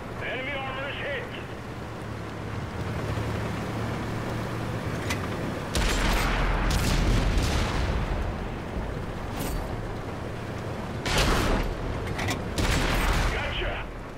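World of Tanks tank gun firing and hitting enemy armor: two heavy, booming shots with rumbling impacts about five seconds apart, over steady engine noise, with a crew voice speaking.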